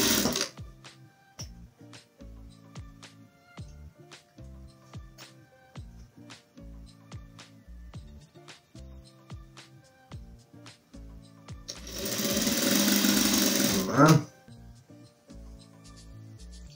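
A sewing machine stitches tricoline fabric strips for a patchwork rug in steady rhythmic bursts of needle clatter with short pauses, then a louder whirring run near the end that stops abruptly.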